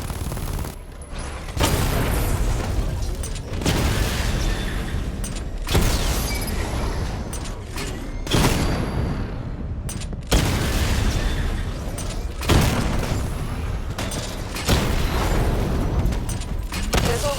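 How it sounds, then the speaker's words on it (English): Repeated explosive volleys from the missile barrage in Batman: Arkham Knight, loud and dense bursts of gunfire-like booms rolling every couple of seconds with mechanical clatter between, and no talking. "Charge the missile barrage to level 2 to destroy up to 4 targets at once."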